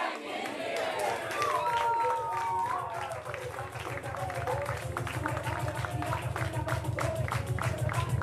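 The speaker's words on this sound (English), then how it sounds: "Shout, get back in here, followed by a loud round of applause" Shouting crowd gives way to a loud, sustained round of applause and cheering, with rhythmic clapping building steadily in the latter half and voices mixed throughout.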